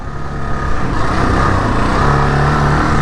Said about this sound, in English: Feels good to be on these trails on a KLR again.